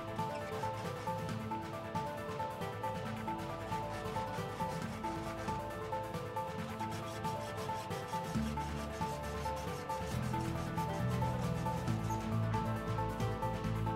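A small saw rasps steadily through a plastic part of a 1/35 Panzer IV Ausf. H scale model kit, a continuous close scratchy back-and-forth cutting sound with no voices.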